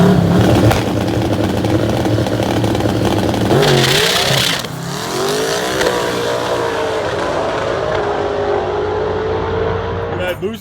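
A Chevy drag car engine revs hard through a burnout, a loud, continuous roar with rising and falling pitch sweeps, close up and steady for about ten seconds before it cuts off abruptly.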